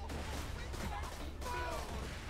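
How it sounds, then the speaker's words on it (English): Grenade explosions and gunfire rumble and crackle in a dense, continuous roar during a Borderlands 2 game session, with a voice partly audible beneath the din. "throw grenades at me!"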